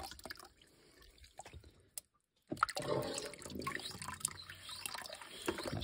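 Water trickles and drips as a gravity-fed central heating system refills through a radiator after a thermostatic valve change, faint and close, with a short silence before the flow gurgles on more strongly.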